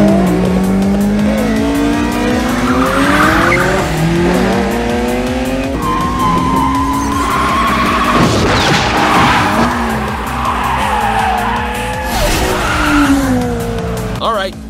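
A Toyota Corolla races in BeamNG.Drive, its engine whining and rising through the revs while tires squeal and skid almost without pause, loud and close throughout, with bursts of harsh scrubbing noise.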